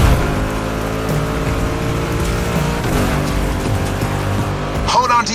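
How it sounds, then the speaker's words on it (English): Mustang racing through a swamp course in the game The Crew Motorfest, a steady engine drone with wheel and surface noise that carries on throughout, rising briefly near the end. "Make that Mustang jump like the devil is after it"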